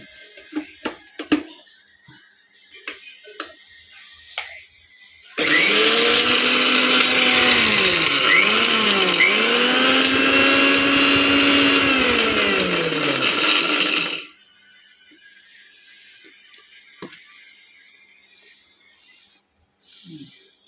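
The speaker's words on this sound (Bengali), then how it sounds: "এই দেখো এইটা এবার মিক্সিতে" An electric mixer grinder whirring loudly for about nine seconds as it grinds a homemade mosquito incense mixture with alum and water, starting abruptly and cutting off sharply, with scattered clicks and handling knocks before and after.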